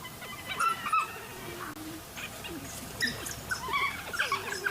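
African wild dogs in grassland chatter in bursts of high whimpers and squeaky twittering calls, rising and falling in short overlapping flurries at moderate distance.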